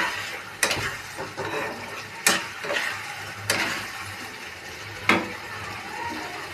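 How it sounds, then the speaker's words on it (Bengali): Tomato frying with chilli powder and spices in a pan on a gas flame, heard as a soft continuous sizzle broken by four sharp scrapes of a spoon stirring against the pan. "এবার ভালো করে মিক্সড করে নিয়ে টমেটোটাকে ভালো করে ভাজতে হবে।"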